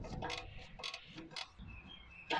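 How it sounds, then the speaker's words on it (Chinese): A wrench loosening a 13 mm bolt on a car's sway bar link during a suspension repair, giving a few faint scraping, clicking bursts close by with quiet pauses between them. "我也用扳手给它松了"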